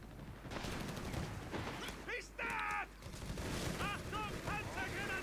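Machine gun fire in the Company of Heroes 3 strategy game rattles in dense bursts amid a busy battle soundscape, with other gunfire and effects layered underneath, moderately loud and continuous.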